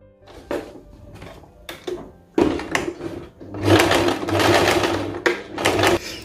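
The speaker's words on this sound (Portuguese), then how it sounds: "Eu vou passar a costura agora aqui por cima." A sewing machine stitches over the pocket of a chemise shirt: short clattering bursts with pauses and handling knocks, then a longer steady run of rapid, close mechanical stitching.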